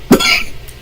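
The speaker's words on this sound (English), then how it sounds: "I don't know what's making me cough like that." A single sharp cough comes from a man during a live forex trading stream. It is close and loud, followed by a raspy breathy tail and a faint second catch.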